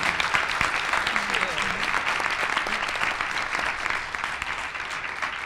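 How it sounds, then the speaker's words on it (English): An audience at an education panel event applauds the panelists with dense, sustained clapping that holds steady for several seconds before easing slightly, no voices over it. "if we can give the panelists a round of applause."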